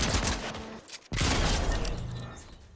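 An assault rifle in the Underworld Desdemona video game fires dense, loud bursts that break off for a moment, then start again in a heavy rattling volley that slowly fades.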